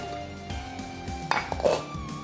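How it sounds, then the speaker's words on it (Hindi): Cooking gravy for Moroccan chicken with roasted red pepper sauce being transferred into a small pot in a kitchen, with a cluster of metallic clinks and scrapes of utensils against cookware, close and fairly loud, no talk. "इसको ज़रा किसी छोटे बर्तन में डाल देते हैं ताकि इसकी पिसाई हो जाए आसान"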